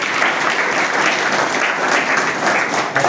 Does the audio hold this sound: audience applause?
yes